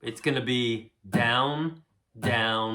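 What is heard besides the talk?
No everyday noise stands out behind the speech.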